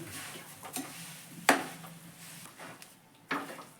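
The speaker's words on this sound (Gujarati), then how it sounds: "આ કાજુ બદામનો ભૂકો પણ નાખી દઈએ ને બરાબર રીતે મિક્સ કરી લઈએ" Semolina date sweet being stirred with cashew-almond powder, with soft scraping and mixing in a pan and two sharper knocks of a spoon against the pan's edge. No talk.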